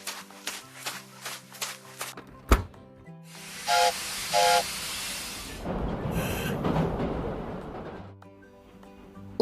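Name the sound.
steam locomotive hissing in a kids' animation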